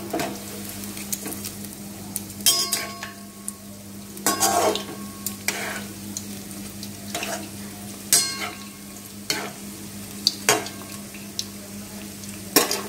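Semolina chicken pakoras fry in oil on a low flame, making a quiet steady sizzle broken by several sharp clanks and scrapes as the pieces are turned over.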